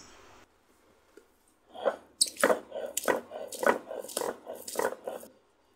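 Deboned rui fish tail is ground for bhorta on a grinding stone, a close series of rhythmic scraping, squishing strokes repeating about every half second, with no talk.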